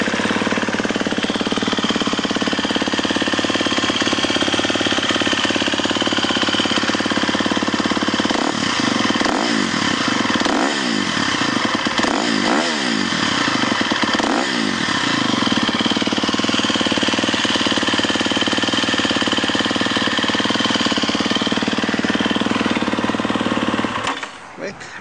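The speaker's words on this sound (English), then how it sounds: "Runs good, idles good, just a great looking pre-owned 250 SXF." A pre-owned 2015 KTM 250 SX-F four-stroke dirt bike with electric start runs close by, holding a loud, steady buzzing idle with a few brief blips in the middle before it cuts off at the end.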